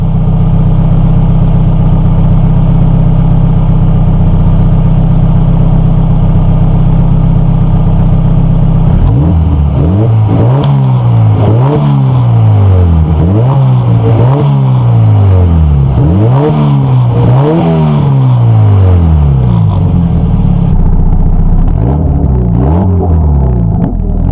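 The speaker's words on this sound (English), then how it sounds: "What I can do is give you guys a couple of revs." An AWD Honda Civic idles with a steady low rumble, then is revved several times in quick succession, each blip rising and falling sharply, loud and close with no talking.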